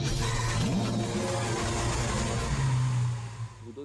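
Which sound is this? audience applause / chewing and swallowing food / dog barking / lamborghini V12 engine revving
lamborghini V12 engine revving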